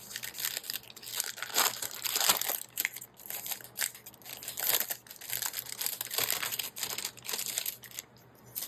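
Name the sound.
crinkling of leather binder packaging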